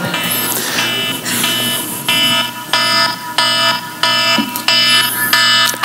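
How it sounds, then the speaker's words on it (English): An alarm blares in repeated loud electronic bursts with a harsh, buzzing tone, sounding in short regular pulses against a noisy background. "can't tell you why I hate alarms."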